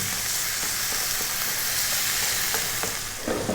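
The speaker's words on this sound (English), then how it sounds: "So again, stir frying around." Prawns stir frying in a pan for spicy Indian shrimp fried rice give a steady, close, bright sizzle with occasional soft scrapes and crackles, and no talk.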